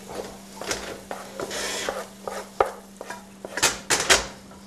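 About a cup and a half of breadcrumbs stirred in a pan with a utensil, producing repeated scraping and clinking strokes close up, irregular in rhythm and growing busier toward the end.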